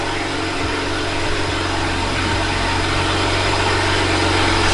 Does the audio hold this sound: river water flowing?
no